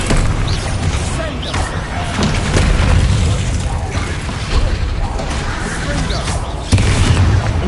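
Booming spell blasts from Confringo and Bombarda erupt repeatedly in Hogwarts Legacy, heavy thuds layered over clanking, mechanical game noise while a voice talks throughout.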